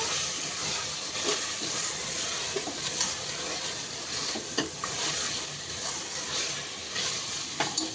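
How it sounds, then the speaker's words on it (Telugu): Chicken fries in oil in a pan for Telangana-style gongura chicken curry, with a steady close sizzle and scattered stirring scrapes and clinks throughout. "చికెన్ అంతా మంచిగా మగ్గించుకోవాలి ఆయిల్లో."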